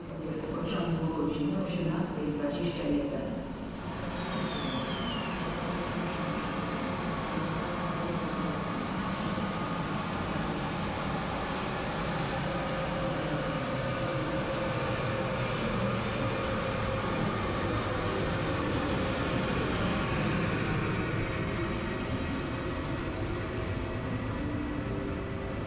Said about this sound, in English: this train continues on.